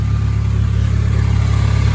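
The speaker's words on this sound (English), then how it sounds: "let me show you this exhaust real quick, and it still sounds good" Acura TSX with a custom exhaust built around a DC Sports header and 2-inch flex pipe, a loud, close, deep steady engine drone with a pulsing exhaust rumble and no talking.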